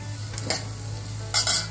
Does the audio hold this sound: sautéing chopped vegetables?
yes